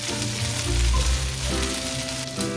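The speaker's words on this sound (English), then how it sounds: "So just while they're frying and getting a little bit roasty" Steady, close sizzling of gnocchi frying in a hot pan, continuous and fairly loud with a low hum underneath.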